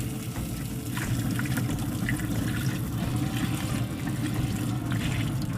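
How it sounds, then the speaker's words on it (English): Beef broth poured over smoked shredded beef in a pan for rolled tacos, a steady close liquid pour and splash that runs without pause for several seconds, with no talk. "We got some beef broth. We just want to go halfway up on them."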